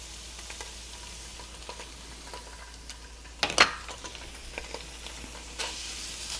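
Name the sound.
garlic and tomato paste frying and being stirred in a pan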